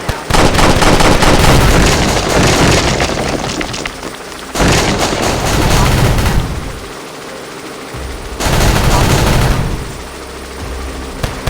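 Loud, dense gunfire and booming explosions from a tactical shooter video game, in sustained bursts broken by brief pauses, close and overpowering.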